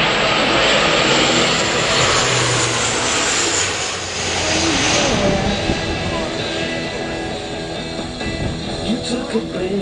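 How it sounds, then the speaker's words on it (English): Loud, continuous jet roar of an F-18 Hornet flying at the Australian International Airshow 2011, a broad steady rumble that swells and fades slightly as the fighter passes, with crowd and commentary faintly mixed underneath. "F-18 Hornet."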